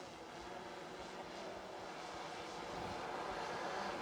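Autel Evo 2 drone fitted with low-noise propellers, heard as a steady whirring hum that swells slightly louder toward the end, continuous with no talk.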